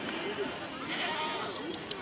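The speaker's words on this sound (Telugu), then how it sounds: "చూడండి ఇవి మేకలు" Goats bleat in a crowded Saturday goat market, the calls brief and mixed into a dense, steady murmur of voices and bustle close around.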